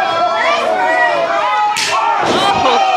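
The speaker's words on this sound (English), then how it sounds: "The echoing of his chest." A hard chop lands on a wrestler's chest in an indoor wrestling arena, two sharp echoing slaps cracking out over constant crowd noise, with the crowd surging and shouting after each.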